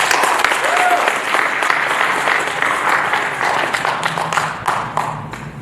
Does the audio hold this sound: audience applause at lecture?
yes